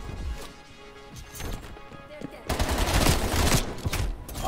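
AMP 63 pistol gunfire in a Call of Duty game: scattered shots at first, then dense rapid bursts grow loud and sustained over the second half.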